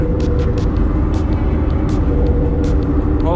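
Turbocharged Scion FR-S pulls hard under full acceleration, a loud, dense engine drone with a steady rumble and high turbo whistle, the revs climbing continuously throughout with no talking over it.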